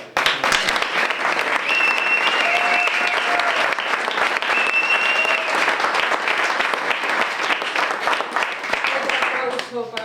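An audience at a storytelling event applauds a storyteller, with loud, sustained, dense clapping filling the whole stretch close by and a few faint whistles or cheers over it.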